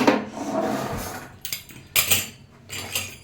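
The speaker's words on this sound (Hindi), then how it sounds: "जो मैंने पिज़्ज़ा कटर से काटा है" A pizza cutter rolling through stuffed paneer paratha dough, soft scraping and rubbing strokes with several sharper, brighter cuts in an irregular rhythm, close and fairly quiet.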